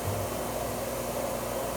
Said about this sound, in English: And I'm going to engage the vacuum.